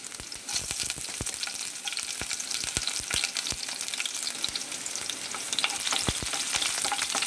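Ginger, garlic and green chillies fry in hot oil with a bright, continuous crackling sizzle. Sharp pops and spatters break through it repeatedly, heard close up with no talking.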